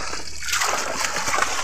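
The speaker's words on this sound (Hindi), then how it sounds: "सब भग रहा, पानी डल रहा है।" Water splashes and sloshes continuously at a Holi celebration, a loud, steady wash of spattering liquid close by with no clear pauses.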